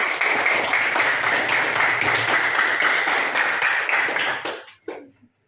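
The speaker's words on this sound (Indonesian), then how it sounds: "Tepuk tangan dulu untuk kita" Classroom applause, a group of Indonesian students clapping together in a steady, bright burst for over four seconds, then tapering off quickly into a couple of final claps.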